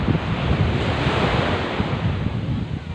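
Waves break and wash continuously on Mentigi Beach in Lombok while strong wind buffets the microphone, producing a loud, steady roar with no voices.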